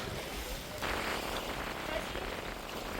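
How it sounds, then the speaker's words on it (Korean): Sea waves breaking on a quiet beach on the west coast of Jeju, heard as a constant wash of surf with a swelling surge partway through, moderately distant and fairly soft. "파도는 좀 칩니다."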